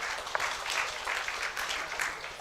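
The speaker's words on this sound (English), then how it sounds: "I think a better clap for Professor Kere." An audience at an event celebrating a century of technical and vocational education applauds for a professor, a dense, fairly faint wash of mixed clapping that holds steady throughout.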